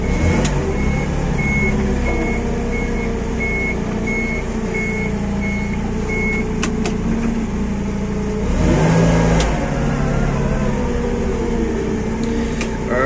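A Toyota 02-8FGF25 forklift with a factory cab and pneumatic tyres runs with a steady engine drone and a repeating electronic beep, then the engine swells as it pulls away, loud and close.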